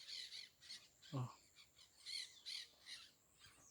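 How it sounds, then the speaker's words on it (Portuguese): Parakeets give repeated shrill squawks at dusk on a rural farm by the Tijuco river, several calls scattered across a few seconds, moderately near, with a brief low human utterance in the middle. "Ó, os periquitos."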